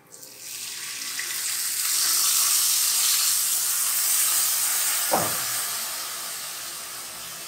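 A milk, yogurt and chili mixture poured into frying garam masala for Kashmiri kofta, a loud rushing hiss that swells and steadies, then a brief splash before easing into a softer sizzle; no talking.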